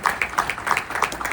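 A short burst of applause, rhythmic hand clapping from a small audience at a business event, steady and fairly close for just over a second, with no voices.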